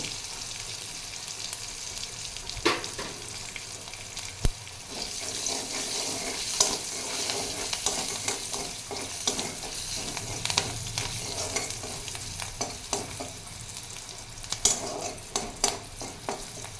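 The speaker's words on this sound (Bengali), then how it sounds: "আমার এটা অনেকটা ভাজা হয়ে গেছে" Potato greens with salt and turmeric fry in a pan, a continuous crackling sizzle broken by sharp spatula scrapes and taps as they are stirred, close and fairly loud.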